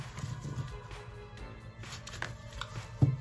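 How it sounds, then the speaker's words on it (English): Deck of playing cards being shuffled by hand, soft rapid riffling and flicking bursts close by with quiet handling noises in between. "It is a great deck. It shuffles beautifully"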